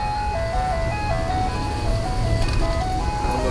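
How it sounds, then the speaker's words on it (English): An ice cream truck passes by playing its looping chime melody, a steady electronic tune over a continuous low road rumble at moderate volume, with no talking. "Let's let the ice cream truck go by."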